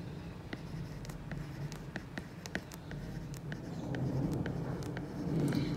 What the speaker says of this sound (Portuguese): Eu vou escrever um pouco aqui pra vocês escutarem o barulho.